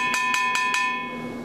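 Four quick, evenly spaced cowbell taps from a bongo bell pattern ring out sharply, then the tone lingers and fades; no voices.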